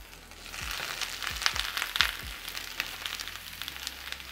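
Mushrooms piled into a hot pan sizzle and crackle steadily, with a few soft thumps and scrapes as they drop in, moderately close and without talking.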